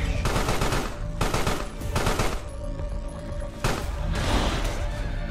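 Bursts of rapid gunfire in the video game Carrion come in several volleys, loud and dense, separated by brief lulls, with a steady background din between them.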